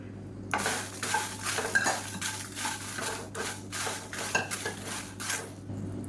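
Dried red chillies roasting in a kadai, with a soft dry sizzle under repeated close scrapes and clinks of a ladle stirring against the metal pan, steady strokes throughout.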